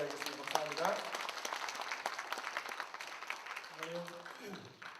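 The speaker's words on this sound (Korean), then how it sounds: "우리 목사님 나오실 때 박수로 한번 맞이하겠습니다." Congregation clapping to welcome a pastor to the front at a church service, a moderate continuous patter running throughout beneath a voice speaking over it.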